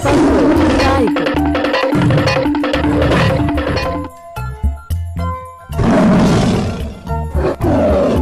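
A tiger roars loudly in two long bursts separated by a short pause with tinkling chimes, set among a toy egg and animal sequence.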